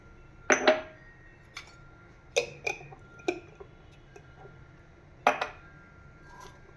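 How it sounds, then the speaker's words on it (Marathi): Mustard seeds spluttering in hot oil, a few sharp scattered pops and crackles at irregular intervals, close by over a quiet background. "हे पहा, मोहरी तडतडते."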